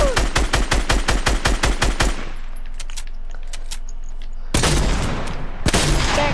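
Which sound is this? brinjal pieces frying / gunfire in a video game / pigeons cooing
gunfire in a video game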